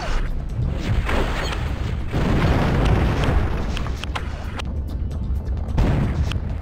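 Cannon fire destroying a windmill in the game Ballerburg, heard as a loud, rumbling explosion with a deep, sustained crash and crumbling debris, followed by a few sharper cracks.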